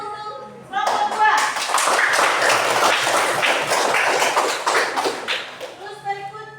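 Classroom applause for a student group, a dense burst of many hands clapping together for several seconds, loud and close, with a voice speaking just before and after.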